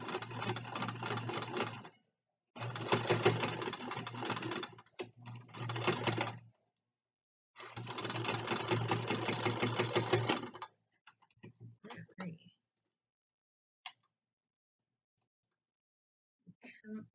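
Home sewing machine stitching thick fabric to make a lanyard, running in three loud sustained bursts of rapid needle chatter with short pauses, then stopping for a few faint clicks and small handling noises.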